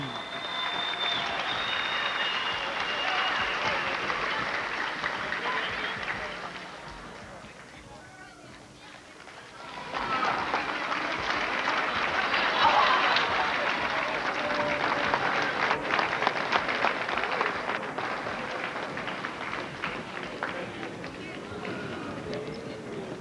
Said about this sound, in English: Give a round of applause for the runner-ups, the Chieftains from Klawock.